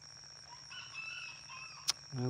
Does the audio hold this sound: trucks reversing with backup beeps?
no